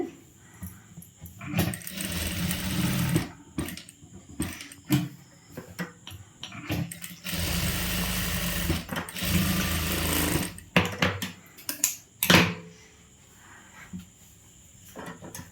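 A sewing machine stitches the neck of an umbrella churidhar in several separate runs. The bursts of close mechanical whirring are broken by pauses and faint handling noises.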